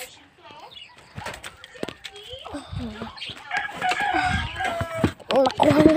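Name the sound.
rooster crowing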